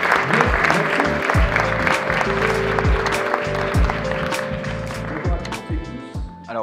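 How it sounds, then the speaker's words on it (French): A seminar audience applauds to welcome two lawyers, steady dense clapping from a large crowd filling the room throughout, with some voices mixed in under the ovation. "un accueil chaleureux et donc un tonnerre d'applaudissements pour les avocats"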